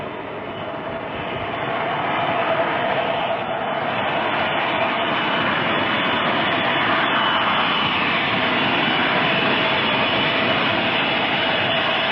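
Air India Boeing 707 jet engines roar steadily and loud inside the cabin, a continuous broadband drone that swells slightly in the first seconds and then holds constant.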